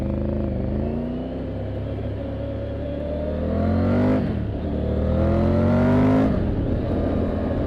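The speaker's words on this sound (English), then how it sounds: "the Triumph's engine sounds so polite, it could probably introduce itself to the Queen of England" Engine of a Triumph Tiger 900 GT Pro motorcycle, a smooth, steady drone that swells as it revs up twice, loud and continuous with no one talking.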